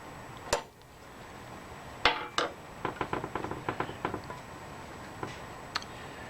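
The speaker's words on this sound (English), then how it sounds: "A little tap with the hammer." A light metallic hammer tap marking a spot, then a second, followed by a quick run of small, sharp taps and ticks, with a couple more spaced out afterward.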